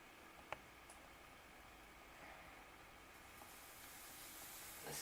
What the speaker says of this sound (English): Listen to that thing sizzle.